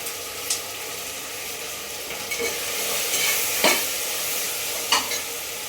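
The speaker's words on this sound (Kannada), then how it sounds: "ಸ್ವಲ್ಪ ಶುಂಠಿ ಬೆಳ್ಳುಳ್ಳಿ ಪೇಸ್ಟ್ ಹಸಿ ಸ್ಮೆಲ್ ಹೋಗೋವರೆಗೂ ಡ್ರೈ ಮಾಡ್ಕೊತೀನಿ" Ginger garlic paste fries with onions and peas in a pan, a steady bright sizzle with a few scattered spoon scrapes and clinks close by.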